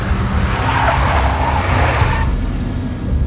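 Tires squeal and skid under a roaring engine as a big black Mercedes speeds off in the Max Payne video game, loud and close, then the squeal cuts off near the end.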